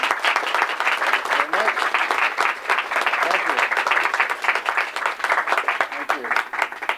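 An audience applauds to welcome an award-winning playwright to a talk on writing and revising, a loud, sustained wash of many hands clapping evenly throughout, with faint voices mixed in underneath.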